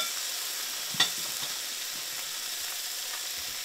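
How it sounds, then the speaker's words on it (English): Eggs fry in a pan with a steady, close sizzle that runs throughout. A single sharp clink comes near the one-second mark, with no voices. "And look at those eggs cook."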